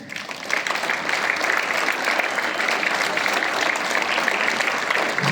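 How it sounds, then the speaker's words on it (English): Schoolchildren clap their hands together at a morning assembly, a loud, dense, continuous patter of many hands that starts abruptly and keeps going steadily for several seconds. "Clap hands."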